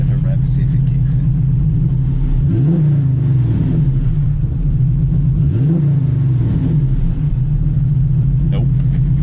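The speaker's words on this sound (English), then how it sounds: "let's give it a bit of a rev, see if it kicks in" A TVR S3 that is not charging, with its alternator light out, idles close by and is revved twice, each time rising in a quick swell before settling back to a steady rumble. People talk briefly over it.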